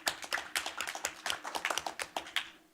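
Scattered applause from a small group at a school board of education meeting, quiet and sparse, with individual hand claps standing out as uneven taps and no voices over them.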